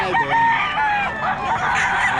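Several roosters crow and chickens cluck close by, overlapping calls filling the whole moment.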